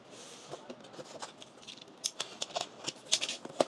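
Blade slicing through the intact sticker seal on a boxed Microlab FC570BT speaker, a run of crisp snips and scratchy cuts building louder toward the end, close up with no talking.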